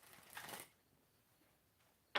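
Tarot cards shuffled by hand: a soft papery rustle early on, then a quiet stretch, then a sharp, crisp riffle burst right at the end, all faint and close.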